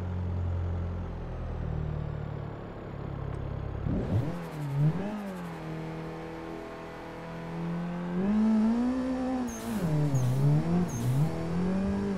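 A race car in a racing simulator at Lime Rock revs hard through gear changes, its engine pitch climbing and dipping repeatedly, loud and close without speech.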